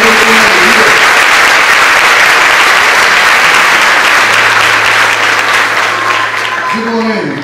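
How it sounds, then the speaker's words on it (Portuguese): A church congregation at a Sunday service bursts into loud, dense applause, a thick continuous roar of clapping heard close, with voices and a sustained tone surfacing underneath toward the end. "dê uma aplauso a Ele com alegria"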